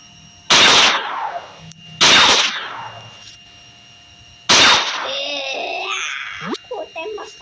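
Gunfire in the mobile game Chicken Gun: three loud single shots ring out a second or two apart, each with a short decaying tail, followed by squeaky, chirping game sounds.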